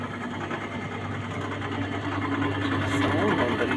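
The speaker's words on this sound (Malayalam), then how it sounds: "നമ്മുടെ കംപ്രസർ ഫാനും എടുത്തിട്ടുണ്ട്." An AC outdoor unit runs after a capacitor replacement, its compressor and fan giving a steady mechanical drone with a rapid rhythmic rattle, close and constant, while someone talks over it.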